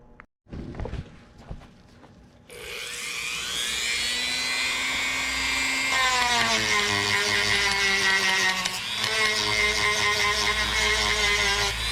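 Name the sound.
sanding drum smoothing metal crankshaft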